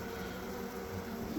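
A low, continuous buzz of bees during a swarm rescue hums faintly and evenly throughout, with no talk.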